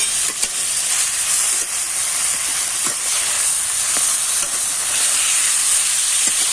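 Semolina and potato are mixed with sauce, sugar and Maggi masala in a hot pan, giving a continuous hissing sizzle. Scattered soft scraping stir strokes sit close under the steady hiss.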